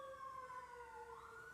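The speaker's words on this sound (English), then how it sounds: "No, the ambulance is here." An ambulance siren wails faintly in the distance with a sustained tone that slowly rises in pitch, heard alone with no talking.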